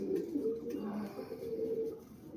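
Domestic fancy pigeons coo softly and repeatedly at close range, with low, rolling calls over a quiet background hum.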